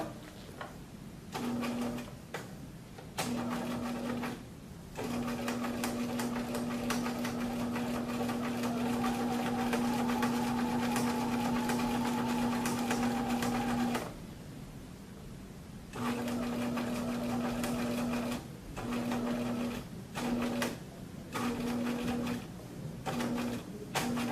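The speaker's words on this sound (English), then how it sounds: "And I will sew down to the corner." A sewing machine stitches a garment corner seam on a half-inch allowance, running in short bursts and one long steady run of rapid, humming stitches, with brief pauses between, close and clear with no talk.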